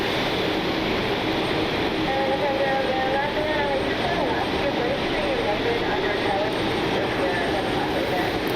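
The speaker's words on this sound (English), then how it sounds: "So we'll get that aircraft as it heads out." A Southwest Boeing 737-800 heads out on a rainy day at Cleveland Hopkins: a steady broadband roar with rain hiss, and a rising whine drifting through it at a distance, while someone talks.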